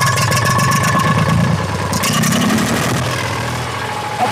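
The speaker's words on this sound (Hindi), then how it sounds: "ट्रैक्टर पूरा फड़फड़ा रहा है" An Eicher 485 tractor's diesel engine idles roughly, sputtering and misfiring in an uneven, loud, close chugging that holds throughout.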